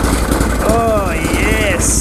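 A turbocharged lawnmower engine revs under throttle, its pitch sweeping up and down in rising whines, with a high turbo-like whistle near the end, all loud and close.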